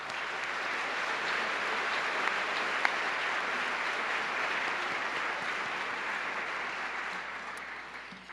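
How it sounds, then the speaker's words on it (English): Warm applause from a seated audience at a City Club Friday Forum fills the room, a dense, steady wash of clapping that holds evenly throughout and eases off slightly near the end, with no speech. "Please join me in a warm round of applause for all of them."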